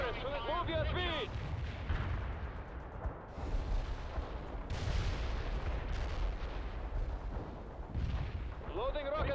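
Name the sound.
rocket launcher fire in World in Conflict video game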